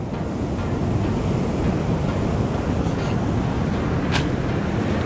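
Ocean surf rolling onto a shore where fishermen work, a loud, unbroken wash of breaking waves mixed with gusty wind buffeting the microphone.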